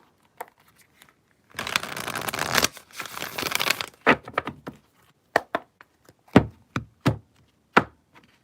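Tarot cards are riffled in a dense burst of papery flutter, then cut and tapped into place with a string of sharp, separate slaps and knocks, close up with no voices.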